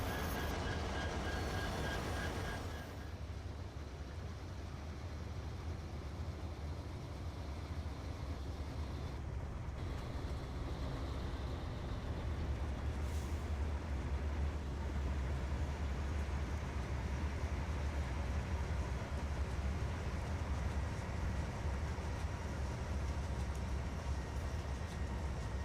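A train rolls steadily into a rail yard, its continuous rumbling roar with faint squeals and rattles lasting throughout, no voices heard.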